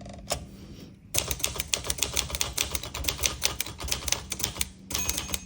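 A 1965 Olivetti Lettera 32 manual typewriter clacks in a quick, steady run of keystrokes after a short pause, with a small margin bell ring near the end of the line.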